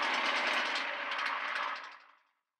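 A wood lathe turning a red pine piece roars with heavy, rattling vibration, a loud broadband rush that holds for nearly two seconds and then quickly dies away to silence.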